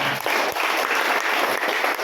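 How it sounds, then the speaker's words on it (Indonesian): Steady applause fills a church congregation during a Christmas sermon, a dense, even clatter of many hands clapping together for about two seconds, fairly loud and close, with no speech over it. "Beri tepuk tangan buat Tuhan."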